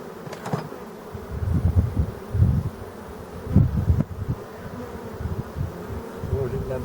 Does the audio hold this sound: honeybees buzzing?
yes